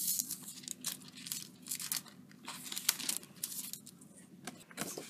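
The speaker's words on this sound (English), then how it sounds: "I'm just going to peel off my foil" Foil is peeled slowly off a Stampin' Up! card panel, close up, in a run of soft crinkling rips and crackles with brief pauses, no talking.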